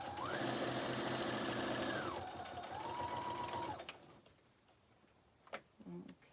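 A sewing machine runs a steady top stitch along a ribbon skirt, its fast mechanical whir droning loud and close for nearly four seconds before stopping, followed by a few faint taps and rustles.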